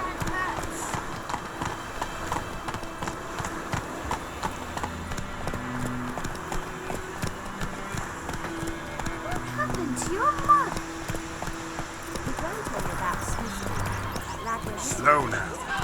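Roach, Geralt's horse in The Witcher 3, gallops with steady rhythmic hoofbeats that run throughout and sit under a continuous bed of music and ambience, with a faint whinny or breath now and then.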